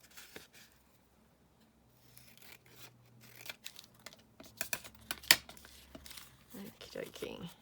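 Vintage paper ephemera being cut at a desk, soft crisp snips and rustling handling noises that grow busier and louder toward the end, with a brief quiet stretch near the start.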